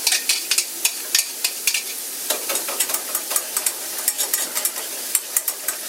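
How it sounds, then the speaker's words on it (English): A spoon stirs gravy in a pot on the stove, making quick irregular scraping clicks against the sides over a steady soft sizzle, close and fairly loud throughout. "Stir that up."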